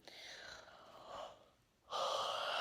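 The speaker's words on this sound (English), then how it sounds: "It wasn't an answer, I just yawned." A narrator performs a drawn-out, breathy yawn. It starts with a gasping inhale, sags and fades toward quiet, then ends in a louder, sustained exhaled sound.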